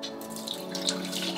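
Water runs from a tap into a sink for face washing, a soft, steady splashing stream heard close and alone throughout the brief moment.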